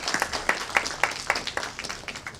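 A lecture-hall audience claps for a guest speaker, an agricultural economist, being introduced at a college of business event; a moderate spatter of hand claps with a few sharp individual strikes, fading toward the end.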